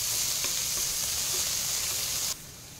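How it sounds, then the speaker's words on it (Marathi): Chopped onion and coriander stalks sautéing in a pan for lemon coriander soup, a loud continuous close sizzle that abruptly drops quieter near the end. "आता यातच ह्या कोथिंबीरीच्या काड्या बारीक कापून घातल्या आहे, त्या पण परतून घ्यायचं आहे"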